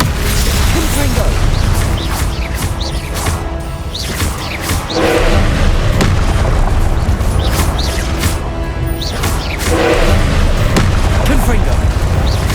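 Confringo blasting-spell explosions in the Hogwarts Legacy video game, a loud, dense run of repeated booming blasts and crashes over a continuous rumble, with game voices mixed in.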